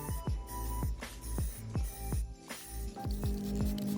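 Primer paint hisses from a spray can onto a metal oil pan, coming in a run of short bursts with rattling clicks between them, close and fairly quiet.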